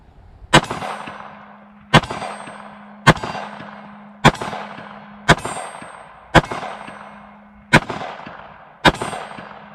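A Sig Sauer P365 chambered in .380 fires eight sharp, loud shots at a steady interval of about a second or so, each crack followed by a ringing decay, with no talking.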